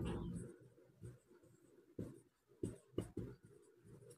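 Pen strokes while working a Class 10 maths equation, written out step by step: quiet, uneven scratching marks in short bursts at close range, with no speech over them.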